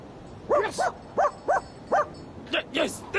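A dog barks in a lively run of about eight sharp, evenly spaced yaps that ring out clearly over a quiet background, in a children's show set in wintry Alaska.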